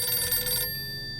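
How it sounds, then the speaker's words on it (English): An old-style telephone bell rings in the video game 60 Seconds Reatomized, a bright, rapid metallic trill that cuts off abruptly about halfway, leaving a faint steady tone behind. "A phone?"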